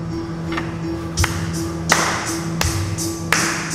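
A steady pulse tapped out in time during a Western music class, a handful of sharp, evenly spaced taps over a sustained low tone, fairly close and clear.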